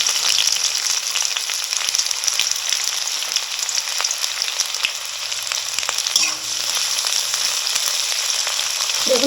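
Chopped onions fry in hot oil with bay leaf and five-spice, a loud, steady, crackling sizzle with occasional light clicks from stirring, no talk.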